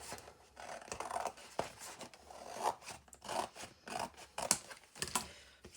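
Scissors snip and rasp through paper in a steady series of close cuts, with soft rustling between them and no voices.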